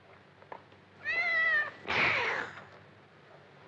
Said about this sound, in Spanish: Nunca me ha querido ese gato.